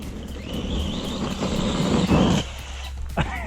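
An ARRMA Gorgon RC truck on new wheels and tires whines as its motor spins up, wheels spinning out for traction, with a steady high electric whir over wind noise and a brief louder burst near the end.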